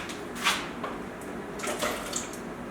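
Tap water runs steadily into a pot of potatoes, a soft continuous splashing and trickle with a few louder spurts, heard alone without talk.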